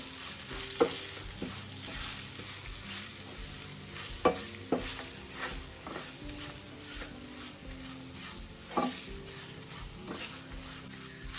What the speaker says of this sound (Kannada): ಚೆನ್ನಾಗಿ ಮಿಕ್ಸ್ ಮಾಡಿಕೊಂಡು ಮತ್ತೆ ಫ್ರೈ ಮಾಡ್ಕೋಬೇಕು